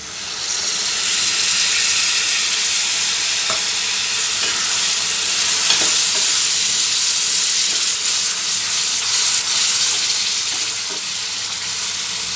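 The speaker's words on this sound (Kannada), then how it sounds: "ಈಗ ಇದಕ್ಕೆ ಹುಳ್ಸನ್ ರಸ ಸೇರಿಸ್ತಾ ಇದ್ದೀನಿ" Tamarind juice poured into fenugreek gojju frying in hot oil gives a loud, steady sizzling hiss that lasts the whole stretch, with faint stirring clicks scattered through it.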